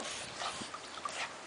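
A dog whimpers and yips softly beside a newly opened pet pool, faint high whines over a hissy background with no speech.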